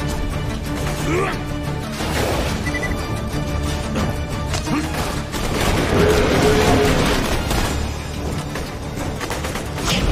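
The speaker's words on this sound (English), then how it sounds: "Magic missile!" Magic missile spell fired repeatedly in the fantasy shooter Tiny Tina's Wonderlands, a run of crashing, crackling impacts and bursts over a dense game soundscape, steady and loud throughout with a voice briefly present.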